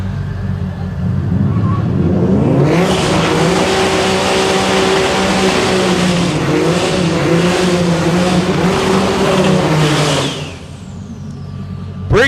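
Drag race launch at the DCT World Cup, a yellow Porsche with a rear parachute against an Audi TTRS in the DCT 850 Index class. Loud roaring engines surge and hold for about eight seconds before fading, and an announcer voice may sit under the noise.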